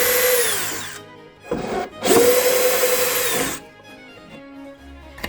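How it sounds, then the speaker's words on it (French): Cordless screwdriver backing a screw out of concrete formwork, heard as loud close whirring bursts of the motor, a long rising run followed by shorter ones, with the screw grinding out of the wood and pauses between. "il faut prendre une visseuse et elle va pas visser, elle va dévisser une vis qu'on a faite."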